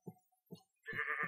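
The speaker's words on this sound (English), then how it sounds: "replaced by this. A tainted sheep." Two short low bleats from a tainted sheep in a Minecraft FTB modpack, followed by a louder, longer strained bleat, all close and clear with no talking.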